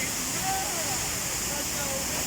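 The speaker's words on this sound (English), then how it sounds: "we're actually walking now to go inside these waterfalls" Loud, steady roar of rushing water while walking into the waterfalls at Brecon Beacons in South Wales, a continuous broadband wash with faint voices beneath it.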